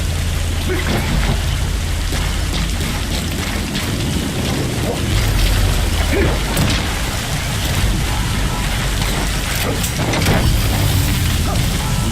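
Steady heavy rainfall in Metal Gear Solid V: The Phantom Pain, a dense, continuous hiss of rain pouring across the landscape with faint rumbling and occasional thuds underneath, loud throughout.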